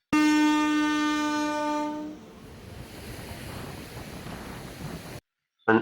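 A loud train horn blares steadily for about two seconds, then gives way to a continuous rumbling roar that stops abruptly, followed by a short burst.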